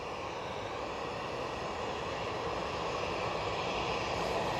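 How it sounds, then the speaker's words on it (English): An EasyJet Airbus A320neo jet passes overhead on departure from Manchester Airport toward Lisbon, a broad steady roar that builds slightly. "This EasyJet A320neo is off to Lisbon."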